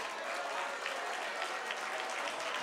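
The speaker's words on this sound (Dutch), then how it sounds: "Geef ze een applaus." Audience applause at a carnival society's jubilee prince event, steady dense clapping from a crowd that fills the whole stretch without letup.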